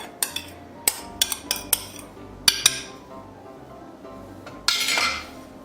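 Chocolate sheet cake batter is mixed with dry ingredients in a bowl, a series of sharp metal clinks and taps of a utensil against the bowl in quick bursts, then a brief swishing scrape, close and alone.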